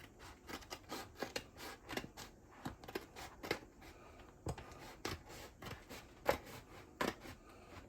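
Drum wrap material being cut along a marked line with scissors, a series of quiet, close snips and rustles in an irregular rhythm with short pauses between cuts.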